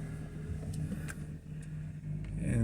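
A 1998 BMW 528 with a faulty transmission is shifted into drive and starts moving forward: a low, steady engine hum with faint clunks and ticks, the engine note rising slightly toward the end, no talk.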